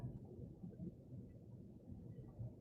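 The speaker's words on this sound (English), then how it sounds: "Can you guys hear the rain? It's pretty loud here. And I just had the roll of thunder." Rain falling steadily outdoors in a town, a low rumble of thunder rolling underneath, faint and continuous with no talking.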